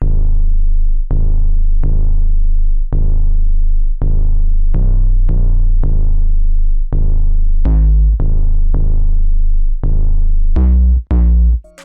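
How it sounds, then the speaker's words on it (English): A Shorty 808 bass in a hyperpop and glitchcore beat plays a run of loud, sustained low notes that shift pitch to follow the melody, with a few brighter accented hits near the end, all heard alone. "for the 808, which I used a Shorty 808"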